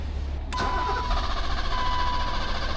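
A BMW engine catches after a brief crank, with a sudden start and then a steady, moderately loud idle that holds close by with no talking.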